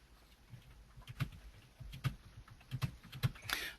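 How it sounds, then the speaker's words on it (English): Someone types on a computer keyboard during an online webinar, a string of faint, uneven key clicks heard at a distance over a low hum. "I can hear someone typing."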